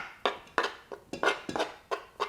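A spoon stirs butter into flour for scone dough in a bowl, giving a series of about eight short, close scraping knocks in an uneven rhythm.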